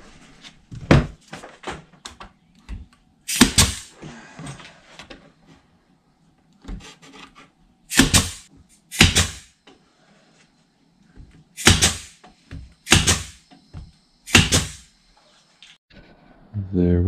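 A homemade wooden drawer in a Tacoma short-bed truck slides open and closed repeatedly, each pass a sharp woody rubbing rasp ending in a thunk, with quiet pauses between.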